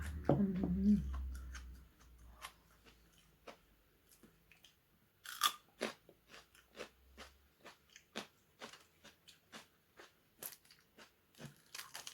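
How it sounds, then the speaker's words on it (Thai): Crisp iceberg lettuce bitten and chewed close up, a series of sharp crunches at an uneven rhythm following a brief low rumble at the start. "ผักกาดกรอบ ผักกาดแก้ว ยายชอบกินมาก"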